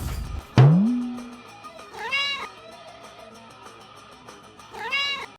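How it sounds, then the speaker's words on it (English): A cat meows several times: a sharp, loud cry that slides down and trails off, then two later wavering, drawn-out meows with rising-falling pitch, close by with quiet pauses between. "Let's get back to that cat."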